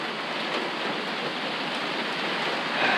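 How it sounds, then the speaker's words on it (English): Rain pours onto an old wooden fishing cabin in a tropical storm, a steady, dense hiss of drops that holds evenly throughout and swells slightly at the end. "Rain's starting to come through"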